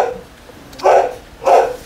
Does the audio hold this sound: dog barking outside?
yes